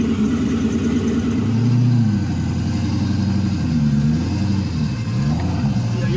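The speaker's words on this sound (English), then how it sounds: "We're gonna let it warm up." Turbocharged muscle car engine warming up, a loud, close, steady idle with a deep rumble that rises and dips slightly in pitch, running without voices.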